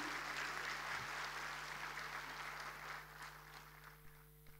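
Steady applause from an audience, a dense wash of clapping that gradually thins and fades toward the end.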